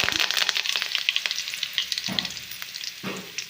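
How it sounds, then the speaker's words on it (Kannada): Mustard seeds crackle and pop in hot oil, a dense continuous spatter of sharp pops with a couple of louder stirring swishes, close up. "ಇವಾಗ ಎಣ್ಣೆ ಒಳಗೆ ಸಾಸಿವೆ ಜಗ್ಗಿ ಚಟಪಟ ಅಂತವು"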